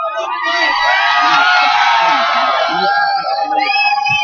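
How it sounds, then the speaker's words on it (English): Large outdoor crowd at a Valentine's Day event cheering, whooping and shouting together, loud and close, with individual high yells rising over the roar throughout. "The crowd is a massive crowd"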